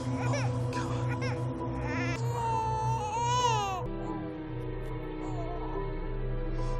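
An infant wails from inside a car in a film scene, its rising and falling cries sustained over a steady music bed with no clear speech.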